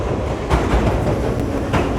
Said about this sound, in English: It's like a train stopping and in context.